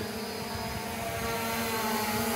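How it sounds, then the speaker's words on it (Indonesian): An MJX Bugs 12 EIS GPS drone in flight gives a steady, loud rotor buzz with a constant whine that holds evenly through the whole stretch, with no voices. "drone MJX bug 12 ini masih berfungsi dengan sangat baik"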